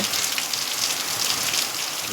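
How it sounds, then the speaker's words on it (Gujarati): Steady rain pours down during a Janmashtami rainfall in a Gujarat village, a dense, even hiss of drops on surfaces filling the whole stretch with no voices, close and constant. "આજે ખુશીનો માહોલ વરસાદ વરસી રહ્યો છે"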